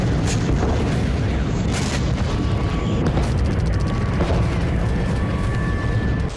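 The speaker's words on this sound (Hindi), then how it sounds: "तभी अचानक धमाकों की गूंज से थर्राने लगा डोनेस्क" Heavy booming explosions over Donetsk, a loud, dense rumble with repeated deep blasts and crackling reports layered into a constant roar.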